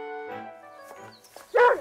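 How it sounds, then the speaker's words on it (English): A dog barks at a curled-up hedgehog in a hole in a bank, a single sharp, close bark rising over a soft, sustained tonal backdrop near the end. "barking at a curled-up hedgehog in a hole in a bank"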